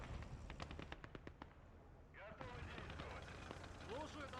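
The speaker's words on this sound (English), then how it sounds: "he does get a shot off through the armoured car" Gunfire in the World War II strategy game Gates of Hell during a 1v1 PvP match, with a burst of rapid shots early on, then scattered sharp reports amid a busy mix of in-game battle noise.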